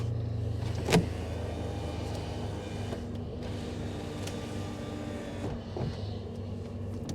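Electric sunroof motor on a 1986 Porsche 911 Turbo coupe in exceptional condition, giving a steady low mechanical whir close by, with a sharp click near the start and another soft knock toward the end.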